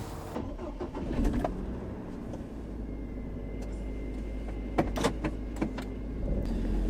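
A car engine comes to life before a short test drive and settles into a low steady idle. A few faint clicks and taps sound inside the cabin, and no one speaks.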